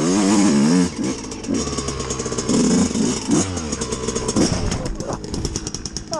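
A Suzuki RM125 two-stroke motorcycle revs hard while ridden, its engine buzzing and climbing in repeated loud bursts, with a voice briefly heard over it.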